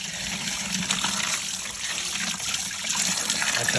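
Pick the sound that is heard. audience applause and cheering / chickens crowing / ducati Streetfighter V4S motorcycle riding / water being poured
water being poured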